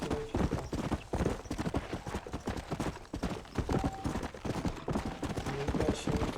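A horse gallops in the video game Red Dead Redemption on PC, its hooves pounding in a fast, even, loud clip-clop rhythm that runs throughout.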